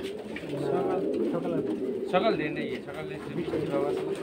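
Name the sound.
pigeons cooing and flying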